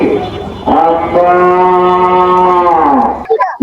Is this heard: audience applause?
no